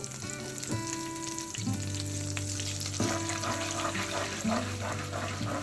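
Eggs and chopped potatoes sizzle steadily in a little hot oil, a constant frying crackle with occasional stirring clatter and a few sharp tonal clinks.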